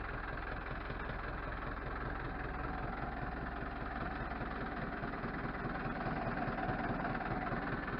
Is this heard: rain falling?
no